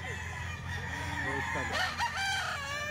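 A rooster, Kuya Dama's chicken offered for sale at a grotto market, crows once clearly over a busy outdoor background with faint voices.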